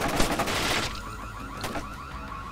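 In Splinter Cell Chaos Theory, a repeating alarm tone pulses on after a burst of noisy gunfire-like clatter, its steady cycling tones continuing at moderate loudness.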